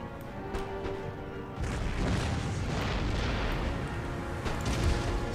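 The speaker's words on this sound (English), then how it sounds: "Let's make my artillery hit that unit to the rear." Artillery in the strategy game Empire: Total War booms and rumbles across a battlefield, dense overlapping blasts swelling after a quieter opening and continuing as a loud sustained roar.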